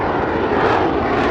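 A fighter jet roars past close and loud, a brief continuous rushing thunder of jet engine noise with no other sounds.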